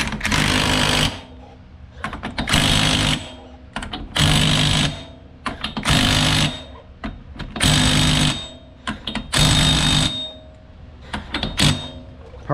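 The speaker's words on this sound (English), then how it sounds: "Get our 30mm back on here and tighten the piss out of this axle bolt" A power tool with a 30mm socket tightening the axle bolt on a Honda Rubicon ATV with independent rear suspension, six loud rattling, hammering bursts about a second each, separated by short pauses.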